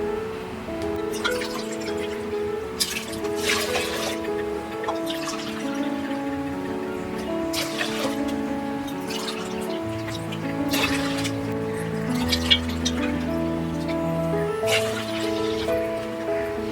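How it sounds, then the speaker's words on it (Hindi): Water poured into a pot of rice and lentils for spinach khichdi, a steady close-up dribbling and trickling stream that splashes and gurgles continuously with no talk. "इसलिए हम इसका डबल यानी 4 कप पानी डालेंगे"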